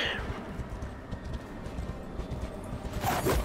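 Rapid hoofbeats pound in a steady galloping rhythm as a horse runs in the video game Darksiders Genesis, with a brief louder sound effect near the end.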